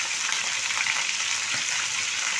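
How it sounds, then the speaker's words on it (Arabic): Chicken sautés in a pan with a steady close sizzling hiss and faint stirring, no voices. "هنشوح بقى الفراخ"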